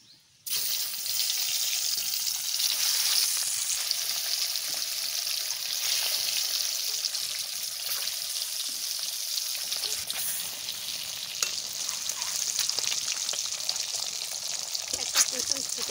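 Eggs frying in a pan for an eggplant and egg masala give off a steady, close hiss and sizzle that runs almost the whole time after starting abruptly, with faint crackles throughout.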